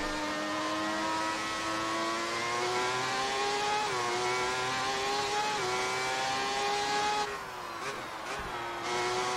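An F1 car engine in the Classic F1 Championship racing game, a sustained high buzzing whine that climbs steadily in pitch as it accelerates, dipping briefly at a gear change near the end.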